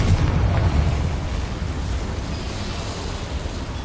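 A Confringo fire spell in the video game Hogwarts Legacy detonates as a loud, deep explosion, with a heavy low-end boom at the start and a rumbling roar that slowly decays across the clip.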